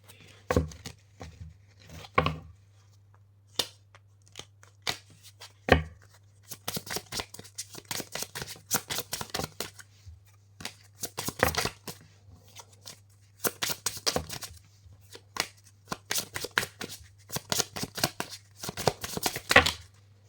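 Oracle cards are shuffled by hand for a tarot-style reading, with bursts of quick papery riffling and flicking that come in short runs separated by pauses, close and fairly quiet.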